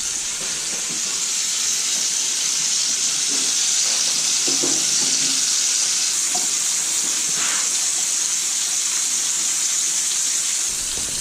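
Pork chops sear in an oiled pan with a steady, loud broadband sizzle that runs unbroken from start to finish, with faint clinks and movement underneath.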